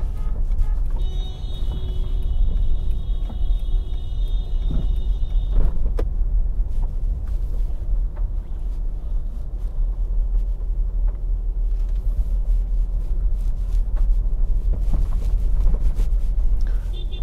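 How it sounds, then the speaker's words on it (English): Steady morning road traffic in Mandeville, Jamaica, as vehicles rumble and pass continuously nearby, with engine drone and wind buffeting the microphone and a brief whining tone early on. "A lot of traffic."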